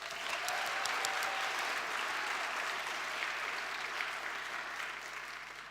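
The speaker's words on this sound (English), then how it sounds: "I think they deserve another round of applause" Steady applause from a school arts awards audience, a full even clatter of many hands that fades slightly toward the end, with no speech.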